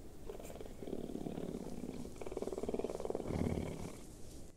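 Cougar call in the Path of Titans dinosaur game, a low, rumbling purr-like growl that swells and pulses for several seconds at moderate loudness, with no talk over it.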